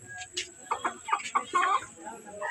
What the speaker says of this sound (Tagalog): Ni ang mga manok na ngayo na pagkaon, guys.